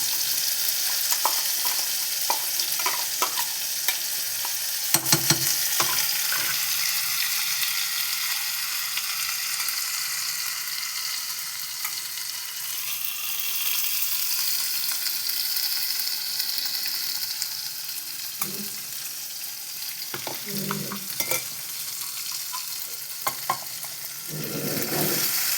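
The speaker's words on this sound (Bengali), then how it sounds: "গরম হয়ে গেছে, এবার আমি চাপিয়ে দেবো ব্যাটারটা।" Matar kachori batter sizzles and fries in hot oil, a steady crackling hiss that runs throughout at close range, with occasional soft stirring clinks and no talk.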